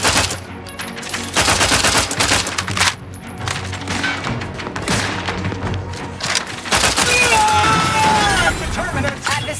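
Rapid gunfire and booming blasts from a firefight in The Outer Worlds 2, loud bursts clattering in dense waves with brief pauses, mixed with game effects.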